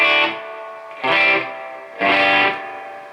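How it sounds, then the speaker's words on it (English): A Chibson guitar through a Marshall DSL15 amp with its built-in digital reverb turned up plays three loud distorted chords at an even pace, each ringing with a washy reverb tail before the next. "The only thing I don't really like about it is the built-in digital reverb. I mean, I can crank it,"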